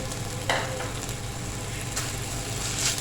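Sweet vermicelli with fried nuts being stirred in a pan, a steady sizzle under soft scraping and a few spoon scrapes.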